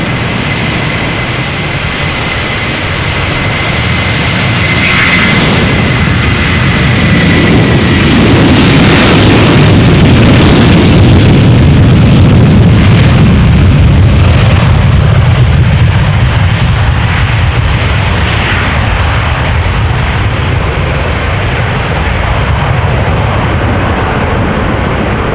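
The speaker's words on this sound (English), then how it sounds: "This is Delta Airlines flight 137 going to Detroit, A330-300" A Delta Airlines Airbus A330-300 powers through at Amsterdam Schiphol, the loud jet roar building, peaking around the middle and rumbling on steadily without talk.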